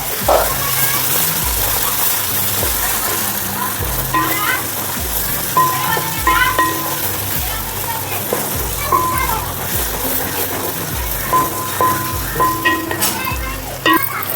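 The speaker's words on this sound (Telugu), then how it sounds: "అల్లం పచ్చి వాసన పోయిందాక మంచి ఫ్రై చేసుకుందాం ఆయిల్లో" Onions and ginger garlic paste frying in hot oil, a loud continuous sizzle with repeated stirring scrapes and spoon taps against the pan, heard close throughout.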